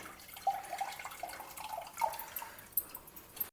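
Tamarind soaked in water is squeezed by hand to extract its juice, giving wet squelches and small splashes in a bowl, close and gentle, in a few irregular bursts.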